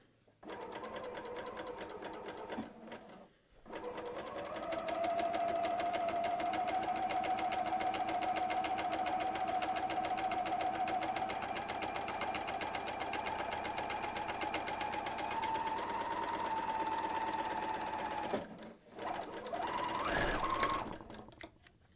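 A Bernina L 460 serger runs steadily while sewing a seam, a close, rapid mechanical whir with a faint rising hum that holds for about fifteen seconds between brief pauses and handling noises.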